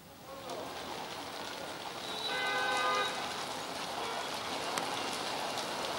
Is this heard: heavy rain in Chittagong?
yes